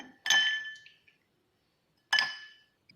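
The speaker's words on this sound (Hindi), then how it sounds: "आइस क्यूब दबा।" Two bright clinks of ice against glass, one early and one about two seconds later, each ringing briefly before fading. No one speaks.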